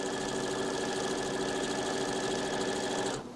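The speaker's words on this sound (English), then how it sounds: "So we're going to sew it all the way along the edge." A sewing machine stitches steadily along the edge of a circle skirt, a continuous close mechanical whir with a rapid rhythmic chatter that runs unbroken before stopping at the end.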